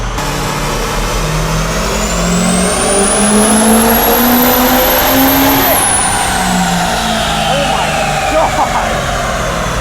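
A 6.0 Powerstroke diesel truck engine roars through a dyno pull, its tone and turbo whine climbing steadily to a high peak before dropping off, loud and close with a voice briefly heard over it.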